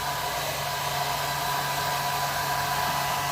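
Handheld blow dryer drying a freshly bathed rooster, a loud continuous whooshing blast with a steady motor hum, held close and unbroken for the whole stretch.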